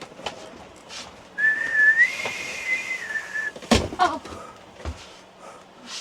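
A high, wavering whistled tone holds for a couple of seconds, followed by a loud thud like a door closing and a few softer knocks.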